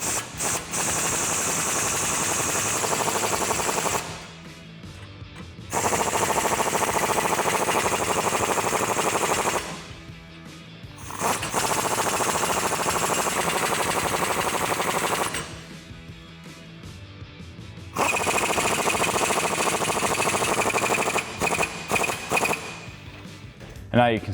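A power tool with a 19mm socket tightens suspension bracket nuts while a ReadyLIFT lift kit is installed on a 2021-2023 Ford F-150. It comes in four loud, sustained rattling bursts of several seconds each, separated by quieter pauses.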